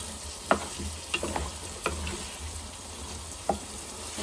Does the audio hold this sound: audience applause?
no